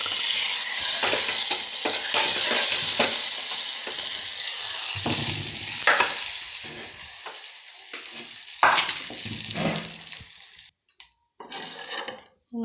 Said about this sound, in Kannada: ನೋಡಿರಿ ಒಗ್ಗರಣೆ ಹಾಕ್ಕೊಂಬಂದೀನಿ ರೀ